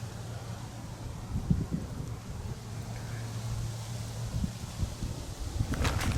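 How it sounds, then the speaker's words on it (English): Wind gusts outdoors in a graveyard at night, making a low rumbling buffet against the microphone, with faint rustling and a brief crackle near the end. "Okay, that's just the wind."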